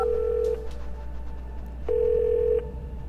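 A telephone in The Darkness video game gives two steady electronic tones separated by a short gap, clear and close over a low background hum.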